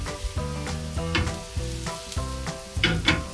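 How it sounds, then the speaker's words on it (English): Onions for mushroom risotto sizzle steadily in a hot pan, with rhythmic scraping and stirring strokes repeating every half second or so. "So, the onions are frying."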